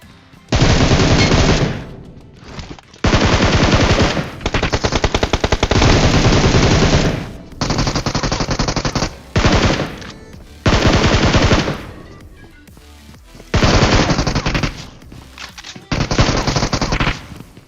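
Rapid automatic gunfire from the Free Fire mobile battle game, loud bursts of machine-gun fire lasting a second or two each, separated by short gaps, repeated about eight times with no talking.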